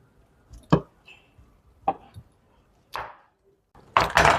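A raw green mango cut on a board, with four distinct chopping knocks spaced about a second apart, close and sharp, with the last one louder and longer.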